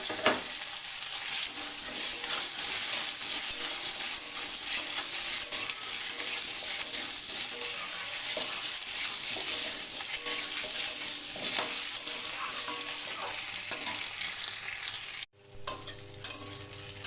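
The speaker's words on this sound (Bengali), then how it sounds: "তিন চার মিনিট কচুটা ভেজে নিলাম" Parboiled taro sizzling and being stirred in a pan with lightly browned onions, a loud, dense, continuous frying hiss with scraping stirs, ending abruptly near the close with a few brief clanks.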